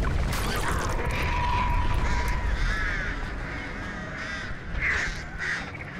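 Crows caw repeatedly during a Dead by Daylight mori, harsh loud calls layered over a dense rumbling, crashing game soundscape.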